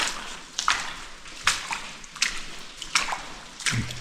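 Water drips inside a muddy, disused railway tunnel near Sandsend, with several scattered echoing drops and splashes spaced irregularly over a quiet, hollow background.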